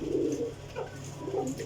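Champion Jheth Wasakh pigeons coo softly nearby in two short, low throaty phrases, with a faint steady hum underneath.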